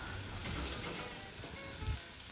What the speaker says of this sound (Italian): abbiamo l'olio pronto, quindi sentite friggere l'olio